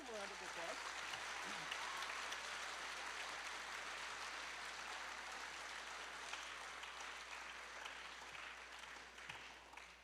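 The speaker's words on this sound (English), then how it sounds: "Give them a round of applause." Sustained audience applause at a Christmas concert, dense and steady for the full stretch, with a voice briefly audible at the start before the clapping carries on alone and fades slightly near the end.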